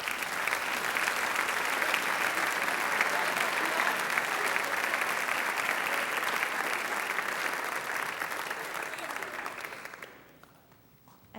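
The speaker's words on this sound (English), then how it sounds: "thank you for your applause" Sustained audience applause fills a hall at a senior recognition night, dense and even for about ten seconds before fading quickly to quiet.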